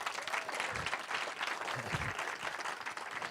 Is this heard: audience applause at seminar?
yes